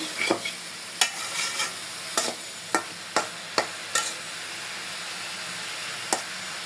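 Broccoli and shrimp with green chilies stir-fried in a pan, a soft steady sizzle under a series of sharp spatula scrapes and taps against the metal at irregular intervals, close and fairly quiet with no talking.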